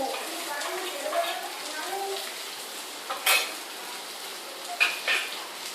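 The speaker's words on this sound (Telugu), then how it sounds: "అన్నీ వేసుకొని బాగా కలపాలి." Moong dal mixed with chili powder and salt, stirred in a pot with soft scraping and a few louder utensil clinks, close by, while a voice talks faintly in the background.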